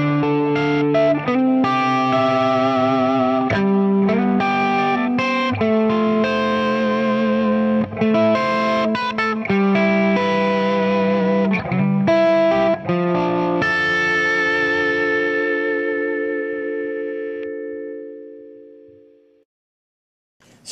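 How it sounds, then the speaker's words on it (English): A C R Alsip electric guitar played with a clean tone, with strummed chords and picked notes ringing out loud and alone, ending on a long chord that slowly decays to silence. "So that's the different sounds that you get with the clean tone."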